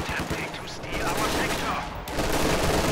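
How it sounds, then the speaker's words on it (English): Machine gun fire and scattered shots crackle in the Company of Heroes 2 strategy game on a steppe island map, rapid bursts layered over battle noise. "This machine gun was not in position"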